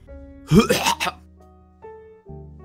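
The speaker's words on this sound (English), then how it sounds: "I cough on him" A rough, throaty cough, loud and close, followed by a low steady hum with soft background tones.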